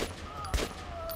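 A single sharp gunshot cracks out once midway in the Metro 2033 Redux video game, fairly quiet against a low murmur of background game ambience.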